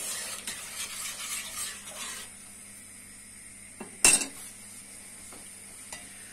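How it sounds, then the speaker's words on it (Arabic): A spoon stirs sugar syrup in a pot for lokma, with soft scraping and clinking against the metal. A few louder knocks stand out near the end, all at low volume with no talking. "انا نحرك هاد الشربات"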